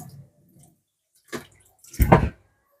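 Plantain pieces go into a pot of thick Jamaican variety porridge, making two soft wet plops and splashes, the second heavier and fuller, with quiet gaps around them.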